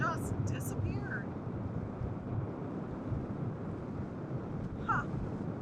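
Wind buffets a microphone outdoors on the deck of the motor vessel Sea Venture cruising the California coast, a steady low rumble throughout with faint water and boat noise underneath and brief distant voices near the start and end.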